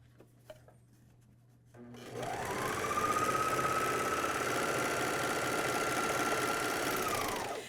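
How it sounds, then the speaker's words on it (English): A MyLock 454D serger starts up after a quiet moment and runs at a steady high whir while overlocking the edges of pajama top fabric, a close, even mechanical hum with no talking. "We're going to go ahead and take it to the serger and let's serge our edges."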